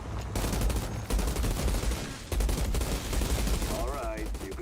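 Bursts of rapid gunfire from the shooter game Outriders, aimed at a tank enemy, come in loud repeated volleys broken by brief pauses, with a whining effect near the end.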